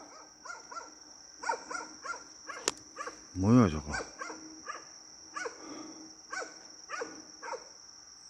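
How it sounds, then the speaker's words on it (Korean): A dog barks repeatedly somewhere in the mountains, sharp regular barks at mid distance with a steady high whine in the background, while a person briefly speaks and a louder burst sounds in the middle. "아니 왜 산속에서 갑자기 개가 막 짖어"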